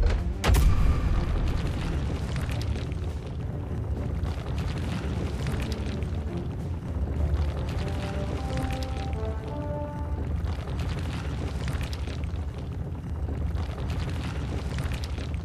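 Deep booming blasts from the Bombastic bomb spell in the Harry Potter Magic Awakened video game, a sharp hit at the start followed by sustained rumbling explosions under game music.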